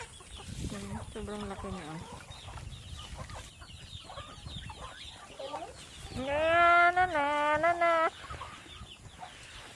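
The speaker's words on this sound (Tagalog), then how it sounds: "Gutom ang mga duck at chicken." Hungry chickens and ducks on a farm, with repeated clucking calls and a louder, sustained squawking burst near the end, while a person speaks briefly in between.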